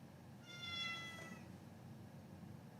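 A cat lets out a single drawn-out meow against a quiet indoor background.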